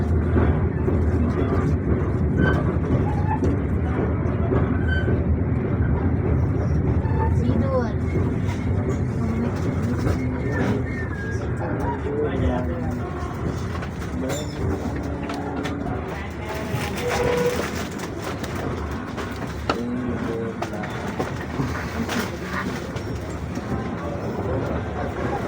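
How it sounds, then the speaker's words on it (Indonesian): Ambience inside Sidoarjo station in Indonesia around the Sri Tanjung train, hauled by a vintage locomotive: a steady low rumble of idling rail machinery with faint bird calls and distant crowd murmur, continuous throughout. "seperti ini suasana terkini ya teman-teman di stasiun Sidoarjo"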